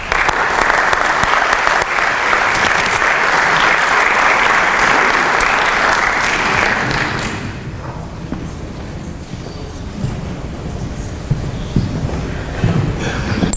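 Loud audience applause welcoming a speaker at a Jewish Federation inaugural event, a dense crowd of clapping for about seven seconds that then fades into quieter room noise with scattered claps and shuffling.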